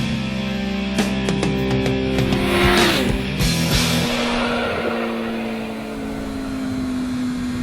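A car accelerates away along a rural road past a blind crest and freshly cut hedgerows, its engine note rising and strong at first, then settling into a steady hum as it pulls away.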